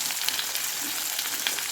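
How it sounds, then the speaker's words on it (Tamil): Onion, curry leaves and chopped tomato sizzle steadily in a pan for a kuzhambu, a continuous close frying crackle with small pops and no talking. "நல்லா வதங்கட்டும். வெங்காயத்துக்கு நம்ம கருவேப்பிலை சேர்த்துக்கலாம்."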